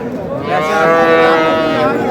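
A young calf at a Faridpur cattle market gives one loud, close moo that swells after a short pause and holds for over a second before fading slightly, with no voices.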